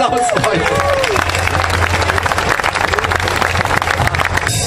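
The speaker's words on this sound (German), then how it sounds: "Applaus, Leute." A crowd at an outdoor rally in Berlin applauds and cheers a performer taking the stage, loud continuous clapping mixed with whistles and shouts and a murmur of voices.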